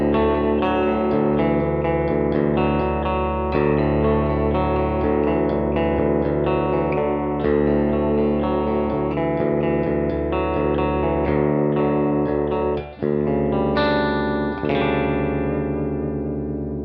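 JET JS-700 electric guitar played through the bridge pickup with distortion and chorus effects, sustained chords and picked notes ringing loud and continuous, no talking.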